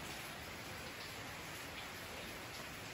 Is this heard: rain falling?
yes